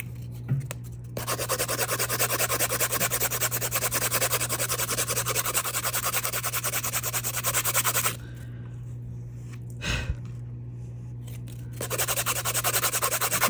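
A file rasps steadily along the edges of a resin and abalone shell box, scraping almost continuously with two short pauses and a faint knock in the quieter stretch near the end.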